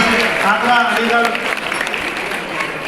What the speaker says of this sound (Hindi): एक बार खड़े हो जाए सबके लिए ताली हो जाए